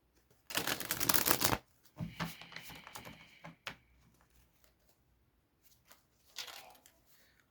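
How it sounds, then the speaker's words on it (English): Tarot deck being shuffled by hand, a few loud riffling bursts of cards separated by quieter tapping and settling, close and intimate with no speech. "Just give it a good shuffle."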